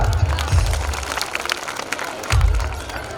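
Audience at a village primary school's annual prize-giving ceremony clapping after a winning student is announced, a continuous rattle of applause from a gathered crowd, fairly loud and steady over a few seconds.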